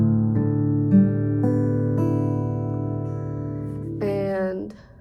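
Guitar low string tuned down to drop D, plucked open and left ringing with a sustained, slowly decaying tone, a few further plucks layered in, ending in a brief sliding bend.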